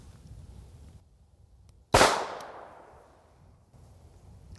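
A single sharp shot from a non-ported pistol firing a mild 148-grain hollow-base wadcutter target load, loud and close, with a quick decaying echo after the crack and quiet before and after.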